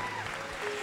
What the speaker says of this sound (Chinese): 有歡喜就大家同嚟拍手